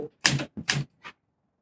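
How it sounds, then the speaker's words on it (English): Old manual typewriter in a 1950s garage in New Zealand, struck in about four short, loud clattering bursts with brief gaps, heard alone and close up. "A typewriter."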